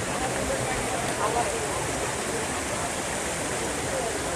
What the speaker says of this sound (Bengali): এদিকে জলের স্রোত বয়ে যাচ্ছে